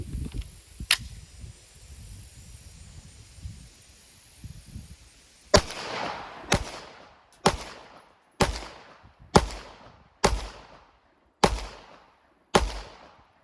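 Sig Sauer P365 FUSE pistol fired outdoors, one early shot then a steady string of eight sharp, loud reports about one second apart, each with a short echoing tail.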